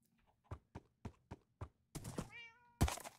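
A house cat meows once, a clear drawn-out call heard close after a series of soft thumping footsteps, followed by a sharp thud, with no talking.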